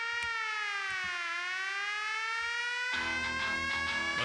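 A rising and falling siren wails in a long sweeping tone at the start of a song, then drums and band instruments crash in underneath it.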